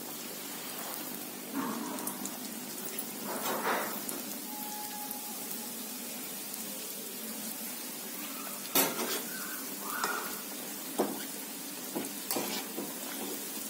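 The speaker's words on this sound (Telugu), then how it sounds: "ఈ వెజిటబుల్ రోల్స్ వేయించుకుందాం, మనం డీప్ ఫ్రై చేసుకుందాం." Vegetable rolls deep fry in hot oil with a continuous rain-like crackling hiss, broken by scattered clinks and scrapes of a metal utensil against the pan.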